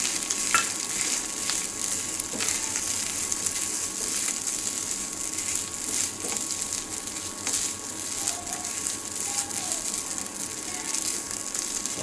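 Grated coconut frying in ghee in a pan, a steady close hiss and sizzle with occasional scraping stirs, continuous and fairly even throughout.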